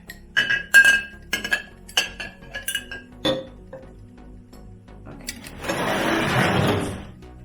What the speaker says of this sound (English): I'll be using this small glass cup for here